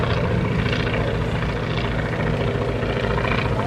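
A droning propeller aircraft engine roars steadily and loudly at an air show at Rhinebeck Airport, with a rhythmic pulsing whir, no voices.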